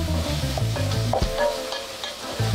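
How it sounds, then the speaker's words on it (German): Yellow curry powder sizzles and fries in a hot pan while being stirred, a steady close crackle with scraping stir strokes throughout, no voices. "Das schön mit angehen lassen, damit die Aromen richtig rauskommen."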